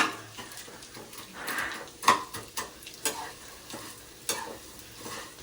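Snacks frying in hot oil in a pan, a low sizzle punctuated by irregular scrapes and knocks of stirring, fairly close and moderately loud.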